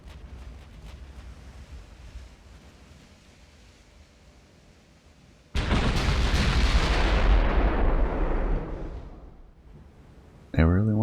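Naval gunfire during a warship battle in the game Ultimate Admiral: Dreadnoughts: a sudden loud booming volley breaks over quiet background rumble, then slowly rolls off, with another sharp blast starting at the very end.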